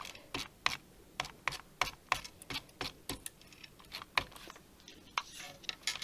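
A dotty tape runner clicks and rasps in a quick series of short bursts as adhesive is laid along a card blank, about a dozen crisp ticks spaced irregularly across the clip, close and fairly quiet, with no voice.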